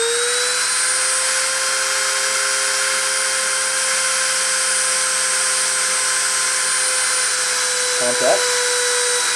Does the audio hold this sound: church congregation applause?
no